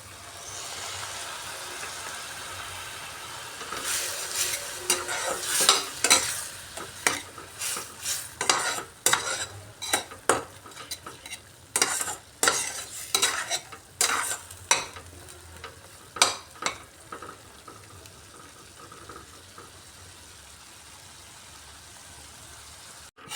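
A South Indian egg gravy simmering in a pan after water is added, stirred with a long run of rhythmic metal scrapes and clatters over a soft bubbling sizzle that fades toward the end.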